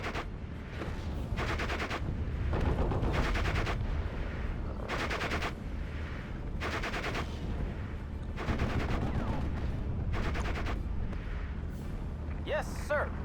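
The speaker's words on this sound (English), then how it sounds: "God, that's a lot of mortar." Mortar and gunfire in the WWII strategy game Steel Division: Normandy 44 at Utah Beach: repeated heavy blasts and rattling bursts hit in a fairly regular rhythm, with dense rumbling between them, and voices talk over the battle.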